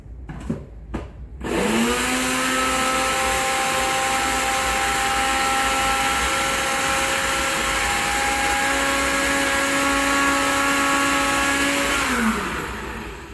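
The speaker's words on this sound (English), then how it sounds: "I take it in my NutriBullet, whole as it is." A NutriBullet blender grinding whole oatmeal into oat flour, a few short clicks and then a loud, high whirring motor whine held steady for about ten seconds before it winds down and stops.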